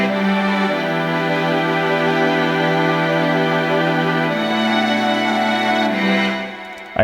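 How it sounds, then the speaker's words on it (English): A future bass chord progression, sustained synth chords shifting every few seconds, with an arpeggiating piano line rippling above, loud and full, fading near the end. "Added this little arpeggiating piano as well."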